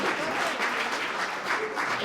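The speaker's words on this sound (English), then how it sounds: "Another round of applause once they all get up here." An audience claps for presenters gathered on stage at a PechaKucha night at The Box Factory for the Arts, with dense, steady applause that fills the room throughout.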